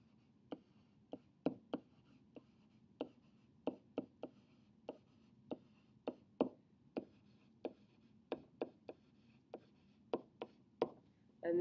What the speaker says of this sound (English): I've got to write small so I can squeeze it all in